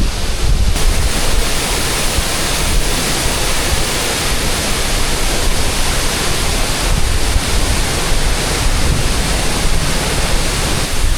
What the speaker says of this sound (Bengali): এই হচ্ছে ছাঙ্গি ওয়াটারফলস। অনেক ওপর থেকে নামছে জল।